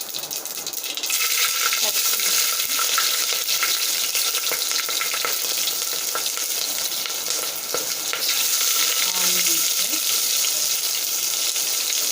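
Cumin and mustard seeds fry in hot oil for a Telugu masoor dal tempering, a steady, dense crackle and hiss that holds loud and close for the whole stretch, with no voices.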